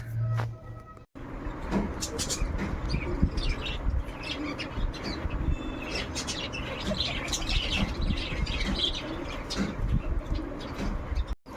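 Birds chirp and pigeons coo steadily outdoors, with faint traffic rumbling in the background and no one speaking.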